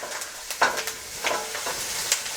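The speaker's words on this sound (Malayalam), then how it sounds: "ഞാൻ എളുപ്പപ്പണിക്ക് വേണ്ടിയിട്ട് ഒരു സിസേഴ്സ് വെച്ചിട്ട് ഇളക്കി കൊടുക്കുക" Crab and green chillies frying in a pan while being stirred with a pair of scissors, a close steady sizzle broken by a few scraping stir strokes.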